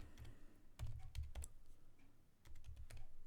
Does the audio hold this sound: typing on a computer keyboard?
yes